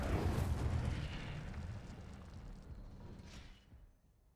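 A burst of the Incendio fire spell cast in Hogwarts Legacy, a loud rushing whoosh with a booming low rumble that fades steadily over about four seconds, heard alone.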